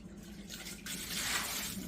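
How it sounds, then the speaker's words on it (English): Hot soapy water sloshes and runs in a sink as a coffee maker's glass carafe is washed, a steady close wash of splashing liquid that swells louder in the second half. "I'm putting the carafe in soapy water, and I'm just cleaning it with soapy water"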